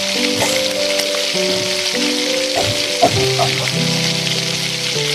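A pan of vegetables frying for egg chowmein, an even crackling sizzle held close throughout, with a few faint clinks and stirs over the hiss.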